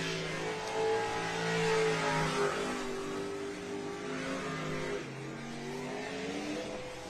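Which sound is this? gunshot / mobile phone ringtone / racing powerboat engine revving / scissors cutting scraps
racing powerboat engine revving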